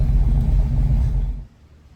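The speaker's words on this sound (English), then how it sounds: "If you can see the engine shaking, it doesn't run very smooth." A 1966 Ford Mustang with its 289 engine idles roughly just after a cold start, a loud, close, shaking low rumble that cuts off abruptly near the end.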